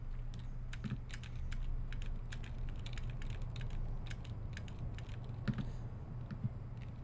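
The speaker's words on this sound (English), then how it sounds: "you guys are gonna have to excuse just the clicking noise for a little bit" Rapid, steady clicking from a computer mouse while highlighting in the space-building game StarMade, a dense run of sharp clicks over a constant low hum, with no voices.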